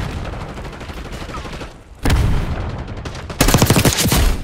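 Bursts of gunfire in a Call of Duty match, a busy spray of shots that drops off briefly, then returns louder near the end, with game voice callouts faint beneath.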